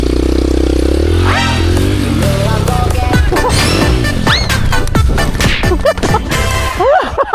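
A dirt or trail motorcycle with a Power Stroke engine revs hard on a rough trail, its loud throttle bursts rising and falling amid clattering and knocking impacts, with a few brief voices partly heard.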